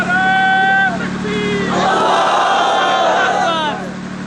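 Large crowd at a Deobandi religious gathering chanting slogans in loud, sustained unison, with a few drawn-out rising shouts standing out over the steady roar of many voices.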